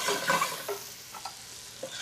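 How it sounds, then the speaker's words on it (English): Apples sizzling faintly in a hot pan while cooking, with soft crackling and a few light stirring clinks over about two seconds, quiet and close. "so I'm gonna throw the apples in here"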